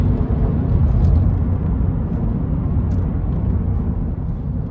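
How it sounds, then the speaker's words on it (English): A 2003 Toyota Camry with a 2.4 engine and automatic gearbox accelerates hard, a loud steady engine and road drone from inside the cabin holding constant with no talking. "let's floor it 0, 20, 30, 40, 50"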